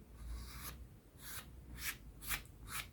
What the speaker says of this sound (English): And if you want to, you can use a paper to scrape this away.